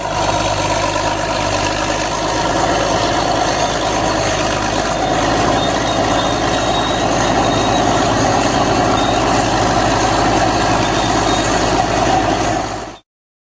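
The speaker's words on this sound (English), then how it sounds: "Bulldozer." A heavy bulldozer diesel engine rumbles loudly and steadily, idling with a deep low throb for over twelve seconds before cutting off abruptly.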